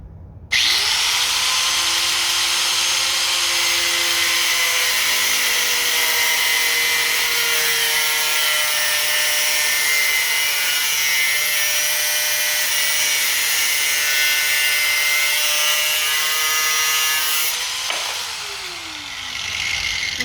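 A metal grinder cuts through metal during parts fabrication, a loud steady high-pitched whine holding for about seventeen seconds, then dropping away as the disc spins down.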